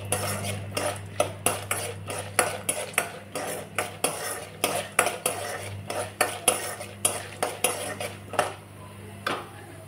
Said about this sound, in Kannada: ಕಡಲೆಬೇಳೆ, ಉದ್ದಿನಬೇಳೆ ಹಾಕ್ಕೊಂಡು ಸ್ವಲ್ಪ ಫ್ರೈ ಮಾಡ್ಕೊಳ್ಳೋಣ